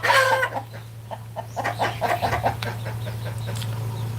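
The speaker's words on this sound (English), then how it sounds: "All my chickens are alert now" Chickens on a farm in spring, alert to a hawk overhead, giving a run of rapid nervous clucks close by over a steady low background hum.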